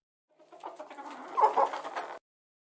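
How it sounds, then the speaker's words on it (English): A single hen clucks in a short, close burst of rapid, throaty notes lasting about two seconds, isolated against silence. "It's a hen."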